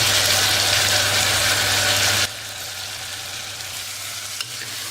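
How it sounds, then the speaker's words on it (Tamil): Tomato, turmeric powder and dal sauté loudly in a hot pan while brinjal kadayal is cooked, a dense steady sizzle that drops to a softer, continuous fry about halfway through, with one small clink near the end. "தக்காளி, மஞ்சள் தூள் எல்லாம் போட்டு கொஞ்சம் நேரம் வதக்குங்க."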